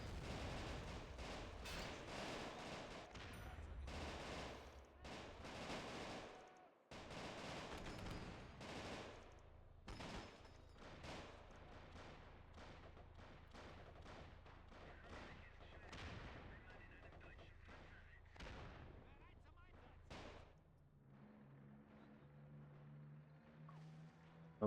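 Video game battle gunfire, including anti-tank rifle shots, cracks out in rapid irregular bursts and single sharp reports, dense for most of the span before thinning into quieter engine-like droning near the end.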